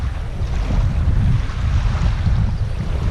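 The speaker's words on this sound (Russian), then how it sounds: "что-то у нас к вечеру рассвирепел ветер" Strong evening wind buffets and roars across the microphone in heavy low gusts at a carp fishing spot, loud and continuous, with no one speaking.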